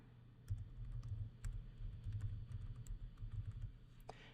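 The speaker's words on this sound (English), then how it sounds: "in the address bar type" Rapid, steady keystrokes on a computer keyboard as a web address is entered in a browser's address bar, a dense run of soft clicks close by over a low background hum, with no talking.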